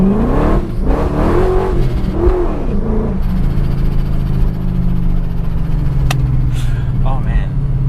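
A crashed BMW E39 M5's supercharged S62 engine revs loudly up and down in rising and falling sweeps, then settles into a rough idle with a short voice near the end.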